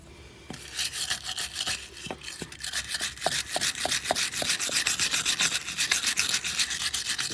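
A wire brush or scraper scrubs rust off the hub of a 1997 Ram 1500 4x4 truck, rapid rhythmic rasping strokes, close and fairly loud, with no talk.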